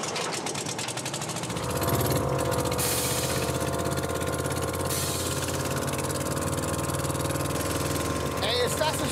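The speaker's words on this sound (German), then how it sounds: "dann mach den Motor an." An air-cooled VW Beetle engine sputters to life and settles into a steady, rough idle nearby, with a brief clatter near the end.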